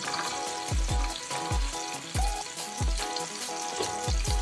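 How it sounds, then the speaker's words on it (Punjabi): Garlic frying in hot mustard oil, a sizzling crackle punctuated by repeated low thuds and clinks of a utensil against the pan, close by. "ਸਰੋਂ ਦਾ ਤੇਲ ਗਰਮ ਹੋਣ ਤੋਂ ਬਾਅਦ ਆਪਾਂ ਪਾਵਾਂਗੇ ਇਹਦੇ ਵਿੱਚ ਸਭ ਤੋਂ ਪਹਿਲਾਂ ਲਸਣ"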